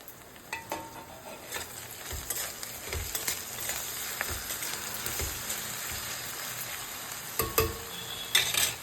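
Washed curry leaves dropped into a frying potato curry, a rising crackling sizzle with scattered spatula scrapes and taps against the pot, and no one talking.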